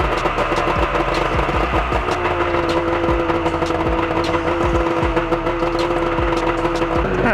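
A snowmobile that had sat unused for about a week and a half runs steadily after starting, its engine note a loud, continuous idle with a low rumble and faint knocking vibration, with no talking.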